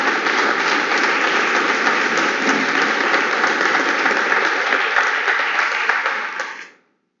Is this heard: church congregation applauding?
yes